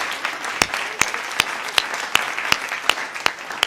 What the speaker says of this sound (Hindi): यहां तालियां आती हैं।